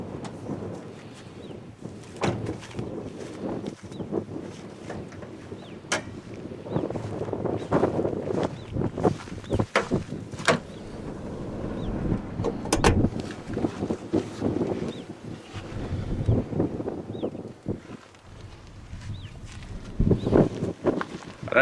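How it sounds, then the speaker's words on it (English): Strong wind buffeting the microphone outdoors beside a small Toyota Agya hatchback, a steady gusty roar with rumbling surges and occasional thumps throughout, close and loud with no clear talk. "I don't know if you can hear me with the wind,"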